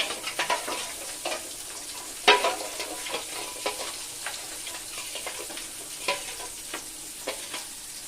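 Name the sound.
stirring spice masala with fish in frying pan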